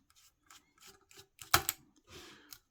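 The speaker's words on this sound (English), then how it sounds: "we will take these mounting screws out" A screwdriver works the mounting screws out of an RTX 3070 graphics card, giving short scratchy turns and small metallic clicks spaced apart, with one sharper close click midway; quiet and up close.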